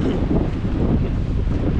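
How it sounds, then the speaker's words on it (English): Strong wind gusts across an open hill, a dense, steady roar of microphone buffeting that stays loud and close for the whole short stretch, with no one speaking. "It's very windy."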